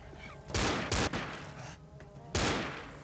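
Bursts of gunfire in the Left 4 Dead video game: three sharp volleys of shots, two close together and one after a pause, each fading quickly against quiet game background.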